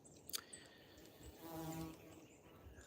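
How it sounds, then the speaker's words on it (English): Faint buzzing of bees flying around outdoors in a Florida wildlife management area, a thin drone that swells briefly in the middle over quiet background. "I know you can hear the bees buzzing around"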